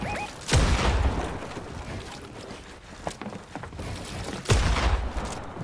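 Gunfire in a video game played with a Logitech G Pro X2 Superstrike mouse: two loud, sharp shots several seconds apart over a rushing, busy game background.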